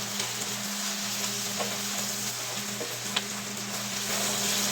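Mushrooms fry in a pan with a steady soft sizzle, and occasional light scrapes come from stirring them as they start to cook down for a chick'n fricassee.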